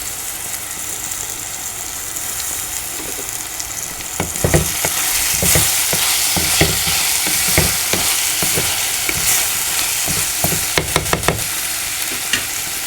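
Onions and tomato fry in a pan for elambakka (clam) fry, a loud steady sizzle with scattered clacks of a spoon stirring, growing busier toward the end.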